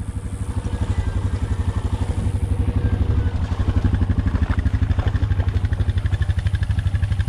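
A Honda dirt bike engine runs steadily on a forest trail, its loud, close, rapid pulsing putter holding throughout with slight swells in revving and no talk over it.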